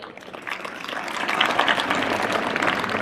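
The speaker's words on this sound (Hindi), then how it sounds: "जोरदार तालियां अपने लिए" A crowd applauds, the dense clapping swelling slightly and holding steady for a few seconds without pause.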